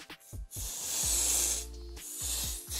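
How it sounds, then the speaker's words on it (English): A spray can lets out one sustained, close hiss lasting about a second and a half, with a few shorter puffs around it, while a cake is being made in a kitchen. "Spray short blast."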